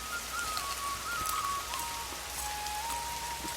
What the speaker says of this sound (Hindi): बारिश लगातार तेज होती जा रही थी